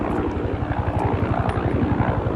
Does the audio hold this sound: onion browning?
no